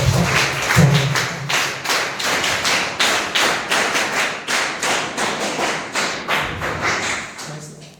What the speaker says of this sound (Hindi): एक बार फिर से तालियों की गूंज के साथ हम सब